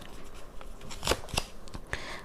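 Tarot cards are drawn and shuffled close by, making a few quick, crisp papery snaps and flicks over a quiet room.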